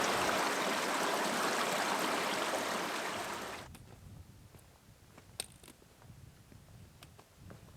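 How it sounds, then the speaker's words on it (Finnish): Wild underground river rushing in a barren mountain landscape, a loud broadband roar for the first few seconds that then drops away, leaving only faint trickling and a few small clinks. "Onpa kyllä villin kuulonen tuo maa-alainen joki, mikä tässä virtaa."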